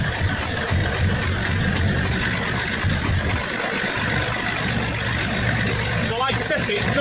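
Diesel engine with a Bosch VP37 injection pump and boost switch idling steadily, a continuous close mechanical rumble running throughout without speech.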